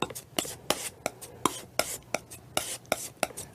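Palette knife mixing phthalo blue and alizarin crimson oil paint, a run of sharp close scraping and tapping strokes on a palette, roughly a dozen in uneven rhythm with no talk.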